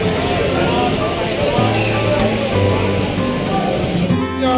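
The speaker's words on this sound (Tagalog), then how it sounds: "Malakas pa rin ang ulan." Heavy rain pours during Typhoon Enteng, a dense, loud, steady hiss of water hitting surfaces, with low hums and a brief louder burst near the end.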